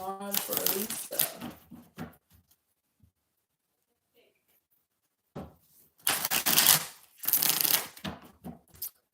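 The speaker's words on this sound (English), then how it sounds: "2 more shuffles." Tarot cards are shuffled by hand close up, in several short bursts of riffling and rustling separated by quiet pauses.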